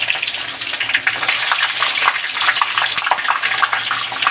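Onions hit hot oil in a pan of cauliflower, potato and pea curry, setting off a loud, steady, crackling sizzle that holds without a break.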